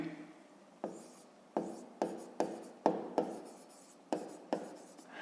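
Pen strokes on paper while a fifth-grade maths answer is written down, a close, quiet series of about ten sharp scratchy taps and short scribbles at an uneven rhythm; no talk.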